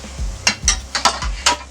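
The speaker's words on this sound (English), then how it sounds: "we're going to saute these onions down until they get really translucent" Onions sautéing in butter in a pan, with a spatula scraping and stirring through a soft sizzle; four or five distinct clattering strokes come close together over a low background hum.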